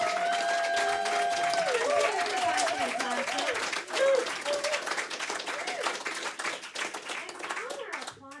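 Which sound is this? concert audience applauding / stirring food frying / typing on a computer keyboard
concert audience applauding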